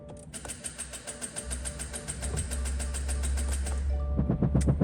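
A Subaru Crosstrek with a dead battery fails to start: a rapid, even clicking or ticking repeats for several seconds over a low hum, then a few heavier, irregular knocks at the end, fairly faint and close.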